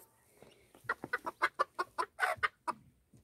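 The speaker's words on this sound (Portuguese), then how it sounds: "Aqui as galinhas." Hens cluck in a quick series of about a dozen short, clipped calls building to a dense burst, fairly close in a quiet yard.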